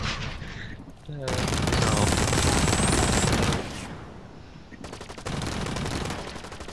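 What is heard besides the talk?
rocket launcher firing in video game Blacklight Retribution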